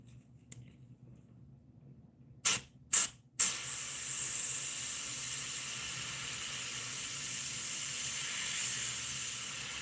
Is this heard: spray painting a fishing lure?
yes